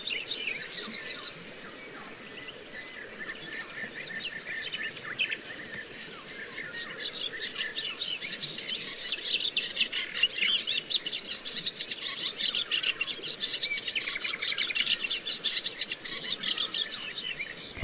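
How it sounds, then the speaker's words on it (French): Eastern olivaceous warbler singing by a Bulgarian river, a steady run of fast chattering phrases at moderate distance, joined by other birds and a faint insect hum throughout. "une hippolaïs pâle."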